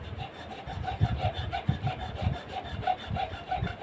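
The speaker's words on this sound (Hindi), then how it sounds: "ऐसे करके हम इसमें धागा लगा के पॉलिश करेंगे रेगमाल से" A sewing machine needle plate hole is polished with thread and sandpaper, giving a close, rhythmic rasping rub, quick back-and-forth strokes repeating steadily about three times a second.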